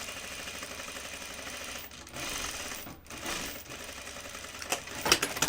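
A sewing machine stitches the second pass of a French seam on a side-seam inseam pocket, a close steady buzzing run broken by brief pauses, then ending with a few sharp clicks and taps.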